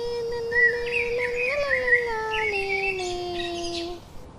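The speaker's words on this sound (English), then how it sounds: "they saw a beautiful snow white bird which sang so sweetly" A songbird sings sweetly in a forest, a clear, high, warbling melody of sliding whistled notes, close and continuous for a few seconds over a soft hiss.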